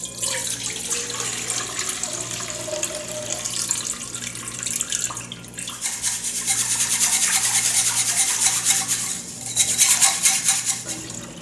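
Starchy white rice-rinse water being poured out into a sink while making Japanese beef curry, a steady running, splashing water sound that swells louder toward the end, with no talking.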